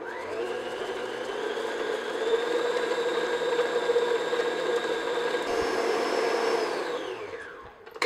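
An electric mixer whirs steadily as it beats butter and sugar in a bowl, a close motor whine with a constant pitch that winds down and stops at the end.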